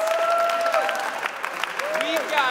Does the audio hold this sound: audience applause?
yes